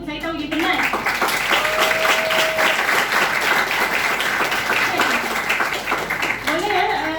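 An audience applauding at a student teachers' forum in Malaysia, steady dense clapping from a large crowd throughout, with a voice speaking over it at the start and end.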